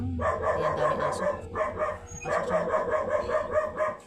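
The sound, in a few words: many dogs barking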